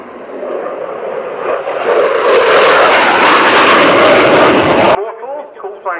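A Belgian Air Force F-16 jet roars loudly through an airshow display, the broadband engine noise swelling for several seconds before cutting off abruptly, with a public-address voice audible beneath and afterward.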